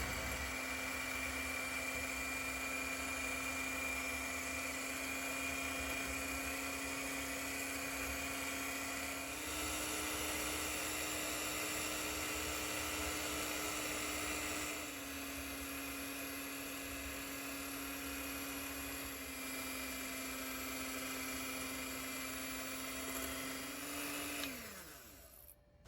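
Hand mixer running steadily at medium speed, whipping egg yolks with cane sugar for a carrot chiffon cake; a loud continuous motor whine with a faint pitch shift partway, winding down at the end.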